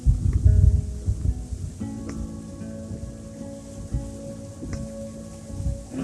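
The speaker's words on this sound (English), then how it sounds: "This rain sucks." Steady rain pours down during Hurricane Henri's landfall, a dense continuous hiss with a heavier burst at the start and a few sharp knocks and faint tonal hums mixed in.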